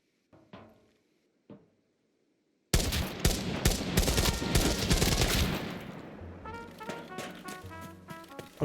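Gunfire in the video game Arena Breakout: a couple of isolated shots give way to a dense, sustained burst of rapid automatic fire and overlapping shooting that continues loudly before thinning into scattered rattling shots.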